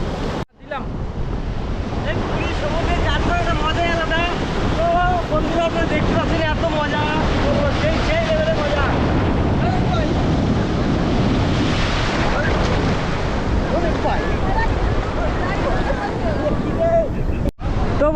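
Sea waves roll in steadily at Puri beach, a loud continuous wash of surf mixed with heavy wind noise and distant crowd babble.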